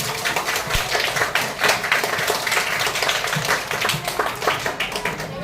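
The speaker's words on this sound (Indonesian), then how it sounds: "tepuk tangan dulu untuk kita semua" A class of students applauds together, a dense continuous patter of many hands clapping that holds steady throughout.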